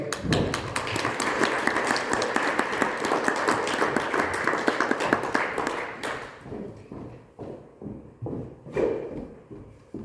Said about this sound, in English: Give her a big round of applause as well.